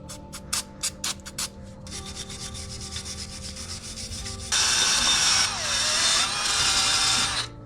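Rust is removed from the brake hub of a 10th-generation Honda Civic: a few short scraping rubs, then steadier abrasive grinding that grows louder and continues to the end.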